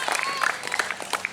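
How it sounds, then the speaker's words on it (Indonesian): Brief burst of crowd applause for a drummer at a live comedy performance, dense clapping mixed with voices. "tepuk tangannya buat penabuh Joya luar biasa"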